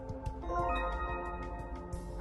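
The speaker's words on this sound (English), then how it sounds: "while a harpsichord has its strings plucked." Harpsichord in the video game Zero Time Dilemma: quiet plucked notes sounding in a soft, steady run of bright, short-attack tones over a faint background hum.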